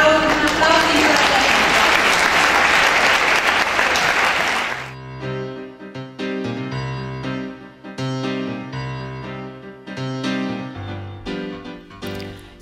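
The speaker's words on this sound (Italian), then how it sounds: "Facciamo un applauso." An audience applauds a choir at a chorus contest, a dense wash of clapping that fades after about five seconds into music.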